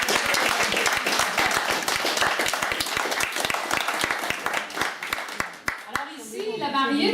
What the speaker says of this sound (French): C'est là qu'on applaudit.